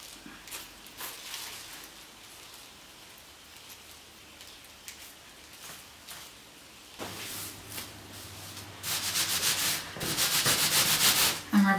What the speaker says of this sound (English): I'm rubbing on top of the wool surface. You can start to be vigorous with it.